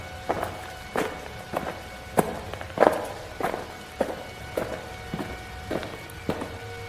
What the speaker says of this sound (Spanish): escuchamos fuertes pisadas que sonaban en el tercer piso y que bajaban por las escaleras hacia